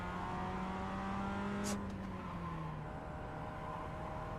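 A Mazda MX-5 Cup race car in the iRacing simulator at Lime Rock Park, its engine droning steadily then dropping in pitch as it brakes and downshifts, with a brief burst of tire or gear noise.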